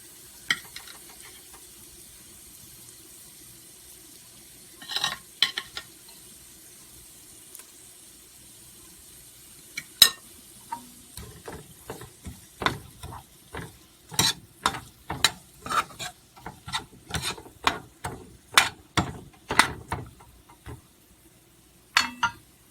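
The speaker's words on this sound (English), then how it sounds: "I'm going to be giving this a stir" A spoon stirs Jamaican shrimp curry with coconut milk in a pan, scraping and clinking in a run of irregular strokes over a soft sizzle, sparse at first and then quicker and busier toward the end.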